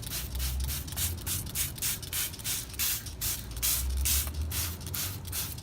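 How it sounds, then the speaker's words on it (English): Close water spray hisses in rapid pulsing bursts while rinsing derust gel off a rusted vehicle chassis, a continuous rough wash with a low rumble underneath and no voices. "what we're doing now is just rinsing it off"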